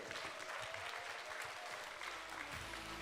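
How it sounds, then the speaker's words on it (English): Sustained applause from a large crowd at the opening day of the 2022 Global Esports Games in Istanbul, dense and steady clapping filling the whole stretch at a loud, even level. "why don't we give a big, big round of applause for all countries"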